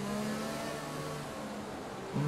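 Race car engine in an F1 video game at the Vietnam Grand Prix, a steady high droning whine held throughout, with a brief louder rising surge at the end as a rival closes to overtake.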